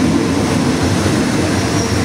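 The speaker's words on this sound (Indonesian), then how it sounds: "Kereta api lokal 452 ini sampai di stasiun Tan Yong Mat, dan di sini kereta ini akan berhenti sekitar 4 menit." Local train 452 pulling into a station in Thailand, a steady loud rumble of rolling wagons and rail noise filling the whole clip with no voices.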